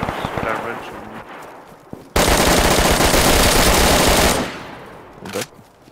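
Video game gunfire bursts in as a loud, sustained rapid automatic volley lasting about two seconds, followed by a single sharp shot, with quieter game sounds and a voice before and after.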